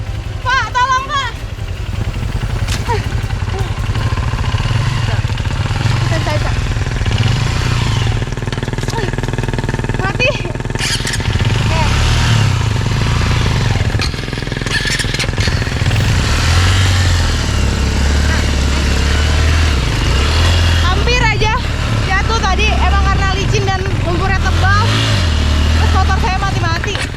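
A motorcycle rides along a muddy road in Indonesia, its engine droning steadily and loudly up close throughout, with voices talking at times over the rumble.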